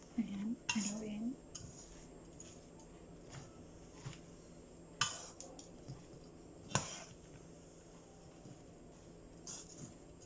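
A spoon scraping and knocking against a pan while fish lumpia filling with pepper is stirred, irregular clinks over a steady background hiss, with a brief voice at the start.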